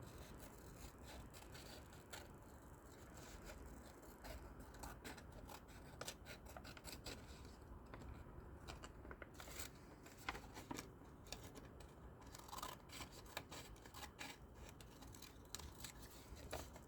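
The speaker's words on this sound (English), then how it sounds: "this time is too thin, so we're gonna have to use the scissors" Quiet, close-up snipping and scraping, a rapid series of short crisp cuts and rasps as scissors work through thin can metal, with no talking.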